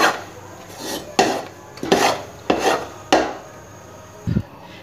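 A spoon scrapes chana dal halwa out of a cooking pot, making about six distinct scraping clatters of metal on metal at irregular intervals, close and fairly loud, with no talking.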